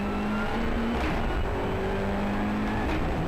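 A rally car in an Australian Rally Championship forest stage accelerates up through the gears. Its engine drones steadily at close range with rising tones from shift to shift.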